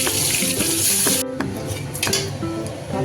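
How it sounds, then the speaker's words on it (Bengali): Pointed gourd pieces fry in hot mustard oil in a kadai, opening with a bright hiss of sizzling before giving way to clattering stirring and softer crackling. "তেলটা গরম হয়ে উঠলে আমি প্রথমে পটলগুলোকে ভেজে নেব।"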